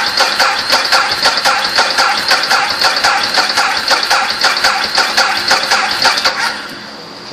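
A motorcycle engine runs after a jump-start from an Antigravity Micro Start battery pack, a loud, steady idle with regular rapid pulsing that eases off near the end.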